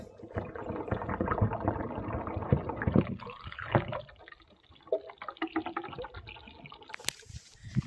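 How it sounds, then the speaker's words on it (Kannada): Water from a motor pump flowing through an irrigation pipe in a cotton field, a steady churning gurgle with rushing, sloshing bursts that eases midway and then surges again, close and fairly loud with no voices. "ಪೈಪ್ನಾಗ ನೀರಿನ ಸೌಂಡ್ ಈಗ ಬೇಕಂತ ಓಪನ್ ಇಟ್ಟಿನಿ"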